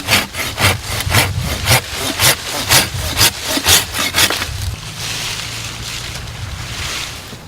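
A handsaw cuts through a tree branch during pruning, giving a loud, close, regular back-and-forth rasp of about a dozen strokes that then gives way to a softer, steady outdoor hiss.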